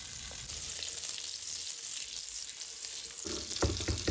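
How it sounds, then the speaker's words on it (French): Butter melts with a spoonful or two of oil in a pan, giving a steady close hiss of sizzling fat with a brief louder clatter toward the end. "Faire fondre 50 g de beurre avec environ 1 ou 2 cuillères à soupe d'huile."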